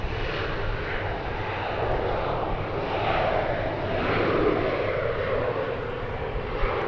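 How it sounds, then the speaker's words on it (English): A jet airliner departing DFW Airport roars steadily for the whole stretch, a continuous broadband engine rumble and whoosh that holds loud and near without a break. "This is the flight to Springfield going out."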